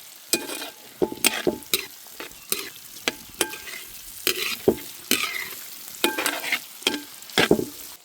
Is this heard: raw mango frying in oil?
yes